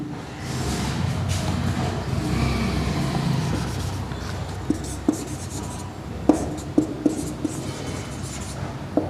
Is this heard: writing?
yes